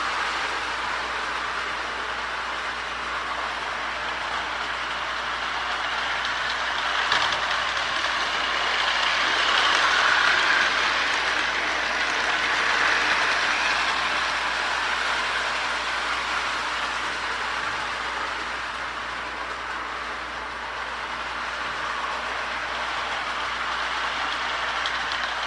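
A Lionel 221 toy locomotive runs along its track pulling Marx Meteor cars, a steady low whirring rumble that swells slightly as it passes nearer mid-way and then eases, continuous and without voices.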